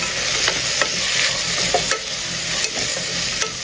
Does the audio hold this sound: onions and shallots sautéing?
yes